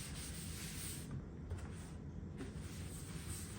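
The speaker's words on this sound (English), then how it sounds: "you're really kind of rubbing it against the grain at first" Steady close rubbing of a cloth spreading gel stain, an antique walnut and nutmeg mix, across wooden furniture against the grain, a continuous dry swishing with brief slight pauses and no talking.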